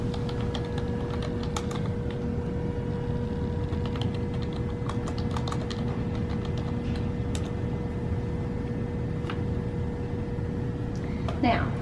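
Quiet keystrokes type a search on a computer keyboard, with clusters of light clicks under a constant electrical hum and steady background noise throughout.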